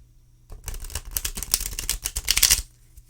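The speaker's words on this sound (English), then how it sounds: "All right, let's give them a shuffle." Shuffling of a standard U.S. Games tarot deck from the Deviant Moon Tarot, a run of crisp riffling card flutters and slaps lasting about two seconds, close and clear with no talk.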